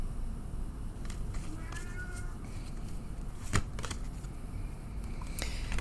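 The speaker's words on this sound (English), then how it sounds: "I shuffle until Spirit asks me to stop" A deck of Wildwood Tarot cards is shuffled by hand in a quiet room, giving soft repeated riffling and slapping sounds with a few sharper card snaps, close and faint.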